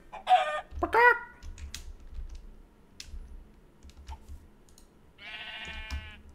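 A chicken clucks in a video game, a few short squawking calls near the start and a sustained clucking burst toward the end, with faint clicking and low background noise between.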